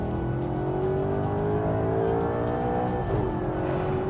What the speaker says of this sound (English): here's a second gear pull in the MCS mode